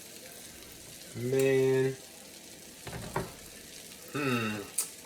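A breakfast steak fries in a pan, giving a quiet background sizzle, while a voice speaks in several short bursts over it.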